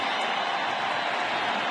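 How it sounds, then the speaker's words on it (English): Crowd at a 2010 NLCS Game 2 baseball playoff stadium, producing a steady, broad roar of cheering with no distinct breaks. "This crowd tries to crank it up again."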